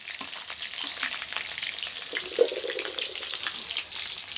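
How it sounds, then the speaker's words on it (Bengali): Potatoes fry in a pan of hot oil ahead of a chicken curry, giving a steady close sizzling hiss with faint stirring scrapes and one brief sharp clink partway through, and no talking. "মাংস আলুটা লাল লাল করে ভেজে নিই"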